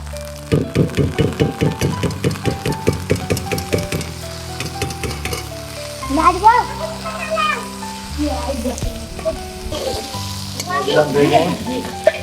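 Chana dal tipped into a pot of hot oil for Bengali khichuri, setting off loud bubbling sizzle with rhythmic stirring scrapes, then settling into a steady fry with clanking utensil strikes.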